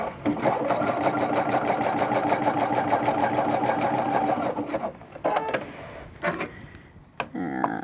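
A sewing machine stitches a narrow zigzag on a jeans belt carrier, humming in a steady close run for about five seconds before breaking into a few short stop-start bursts.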